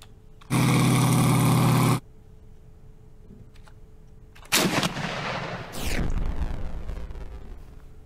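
Artillery support firing in a tank simulator game: a long roaring blast, then two sharp heavy booms with rumbling tails, loud against a quiet background with no talking.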